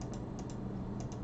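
Quick, faint clicks of a computer mouse button, arriving in small pairs at a rapid uneven rhythm over a low background hum.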